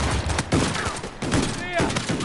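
Rapid pistol gunfire in the video game Uncharted 4 during survival mode, loud overlapping shots in quick bursts mixed with game sounds and a voice talking.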